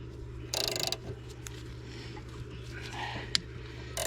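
A gear puller works on a part stuck to a log splitter motor, giving brief mechanical ratcheting and creaking bursts, one louder grinding stretch early and a sharp click later, over a steady low hum.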